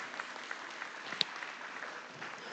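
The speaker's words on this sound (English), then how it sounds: "Let's give these kids a big round of applause, if you would, please." Audience at an FFA market hog show at the Nebraska State Fair applauding the kids, a faint, distant, steady patter of clapping throughout with one sharper clap standing out.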